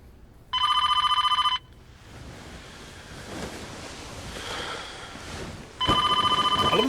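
A mobile phone rings in two short bursts, separated by a few seconds of windy, rushing background noise, from the Black Mirror episode The National Anthem.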